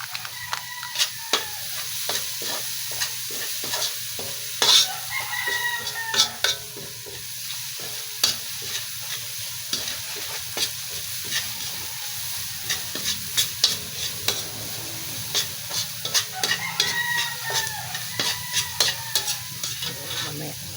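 Chicken pieces sizzle in margarine in a pan while a utensil stirs them, giving an ongoing fry with repeated scraping and clattering strokes at close range.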